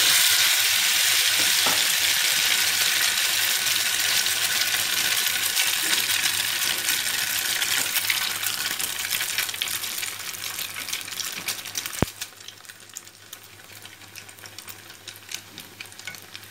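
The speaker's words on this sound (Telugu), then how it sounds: "వెంటనే మనం టర్న్ చేసేసి ఆయిల్ వేసి" Egg-dipped bread slices frying in oil in a pan for an Andhra breakfast snack, a loud, steady close sizzle and crackle that softens a little near the end after a brief clink, with no voices.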